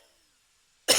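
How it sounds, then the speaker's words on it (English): A single loud cough bursts out abruptly at the very end, after near-silence, from a person recording a spoken tarot-style reading indoors. "Excuse my coughing"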